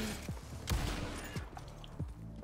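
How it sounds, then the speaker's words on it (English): Rapid gunfire from a horse in the Red Dead Online video game, a burst of sharp shots with a loud crack near the middle, repeating over steady game background noise. "My horse is just firing bullets."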